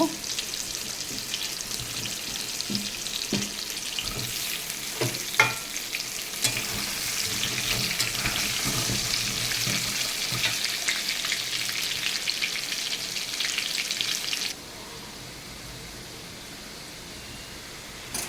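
Small home-grown potatoes fry in a pan of oil, giving a dense, constant sizzle with occasional spoon taps and scrapes, then dropping to a quieter hiss near the end.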